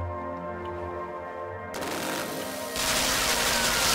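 Gunfire inside the Limbo video game, a burst of dense crackling shots that swells sharply and grows louder toward the end, with no talking.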